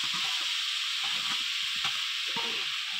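Prawns and turmeric go into frying cabbage ghonto, giving a steady close sizzle with intermittent stirring scrapes and bubbling.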